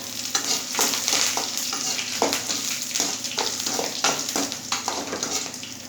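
Curry leaves and dried red chillies sizzle and crackle steadily in hot oil, with occasional stirring scrapes, close and fairly loud with no talking.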